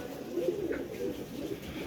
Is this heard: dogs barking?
no